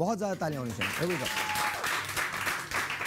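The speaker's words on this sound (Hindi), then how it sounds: "आप सब लोगों की बहुत ज़्यादा तालियां होनी चाहिए" Studio audience applauds guests and three couples on a Pakistani morning show, broadband clapping rising after a spoken line and continuing steadily, with a voice and a faint tone briefly over the start.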